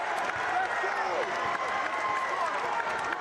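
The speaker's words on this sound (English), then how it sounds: "this entire crowd now outside of Minnesota fans are cheering on Alabama" Basketball arena crowd at an Alabama versus Minnesota college game, roaring and applauding steadily in a dense, continuous wash of cheers with a few shrill whistles, fairly distant and unbroken throughout.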